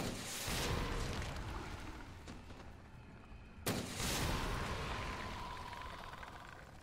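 Two heavy booming blasts from a rocket launcher in the Resident Evil 2 Remake video game, each followed by a long roaring rumble that fills the clip.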